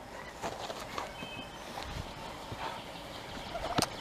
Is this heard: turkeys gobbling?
yes